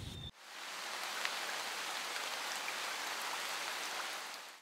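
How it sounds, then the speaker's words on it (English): Rain falls steadily outdoors, an even wash of patter that starts abruptly after a short burst of other sound and then holds at a soft, distant level to the end. "And it, of course, just started raining."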